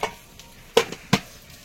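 Vegetable stalks fry in a pan, giving a soft low sizzle broken by a few sharp clatters of stirring, short and close with no voices.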